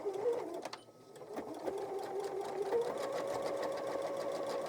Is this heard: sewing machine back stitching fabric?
yes